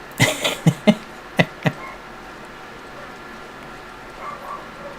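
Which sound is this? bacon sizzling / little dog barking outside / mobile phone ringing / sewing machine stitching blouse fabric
little dog barking outside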